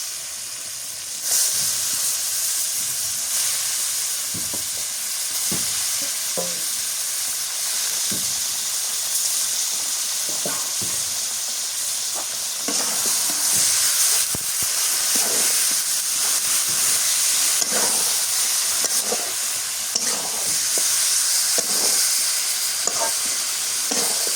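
Beef pieces dropped into a hot pot for a Bangladeshi beef curry, giving a loud, continuous hiss of sizzling and steaming that rises slightly midway and carries on steadily without any voices.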